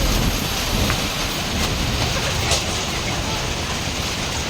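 Steady broadband rain hiss fills the clip, constant and fairly loud, with a rumbling low end and no clear voices.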